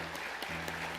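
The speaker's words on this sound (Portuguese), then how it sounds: "Dê uma salva de palmas para Jesus." Congregation clapping for Jesus during a Portuguese-language church service, a dense, steady wash of applause across the whole second.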